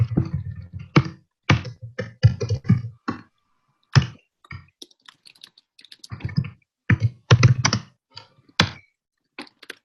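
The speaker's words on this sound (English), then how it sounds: "Here's some typing." Fingers type on a computer keyboard in irregular bursts of clicky keystrokes, broken by short pauses, close and clear.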